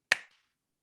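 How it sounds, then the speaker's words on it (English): One crisp hand clap used as a slate for a podcast recording, a single sharp close snap that decays quickly into silence. "last clap on 3"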